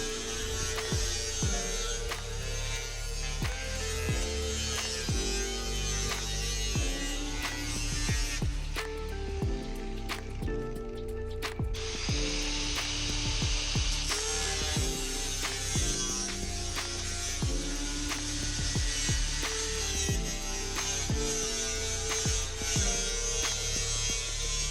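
A 4.5-inch angle grinder fitted with a cutoff wheel slices through wood for a dog house, a steady loud electric whine running nonstop, its pitch dipping and recovering as the wheel bites, with short interruptions in the grind.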